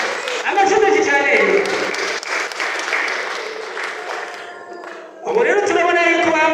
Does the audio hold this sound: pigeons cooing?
no